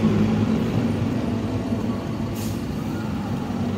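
Heavy bus rumbling and idling close by at Kudus terminal at night, a New Santika coach on a Hino RN chassis with Jetbus 3 body, with a brief hiss partway through over a dense steady drone.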